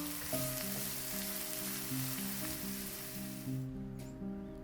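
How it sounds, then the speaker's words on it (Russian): Chopped onion fries in a hot pan over medium heat, a steady soft sizzle running throughout beneath gentle background music. "Разогрелась сковорода, я отправляю лук и обжариваю буквально 5 минут на среднем огне."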